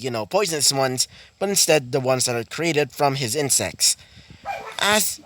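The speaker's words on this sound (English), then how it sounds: "Sorry about that, that was just my dog." A dog barks a few times in the background of a room, mostly masked beneath steady close-up talking.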